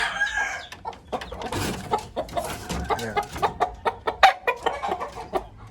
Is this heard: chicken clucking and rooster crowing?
yes